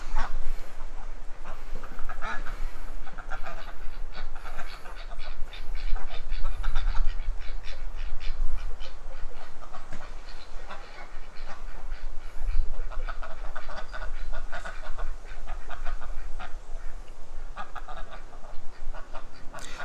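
A flock of ducks quack near a homemade duck feeder, a busy, loud outdoor chorus of overlapping calls that continues throughout, with low rumbling wind or handling noise underneath.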